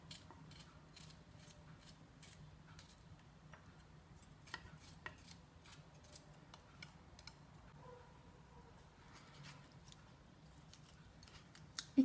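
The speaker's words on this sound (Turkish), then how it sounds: "Sarımsaklarım var. 3 diş. Onları da doğruyorum ince ince." Garlic cloves, three of them, being finely chopped with a knife on a board in a home kitchen: quiet, irregular clicking taps, sometimes in quick runs, with faint background hum.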